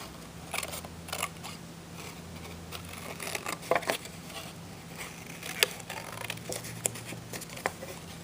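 Scissors cut around a traced paper flower shape, making quiet, close snips and crisp paper crackles scattered over a low steady background hum.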